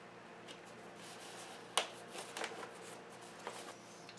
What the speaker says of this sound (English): now we're going to start cutting those out.